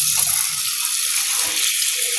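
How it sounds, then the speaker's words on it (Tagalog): Tap water pours steadily into a container in a home kitchen while eggplant is being prepared for tortang talong, a continuous bright hiss and splash throughout, close and fairly loud, with no talking. "Dalagyan pa lang ng tubig."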